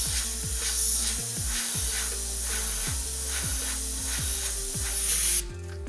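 An airbrush sprays paint onto dice with a steady close hiss, accompanied by a repeating low mechanical pulse, before the spray cuts off abruptly near the end.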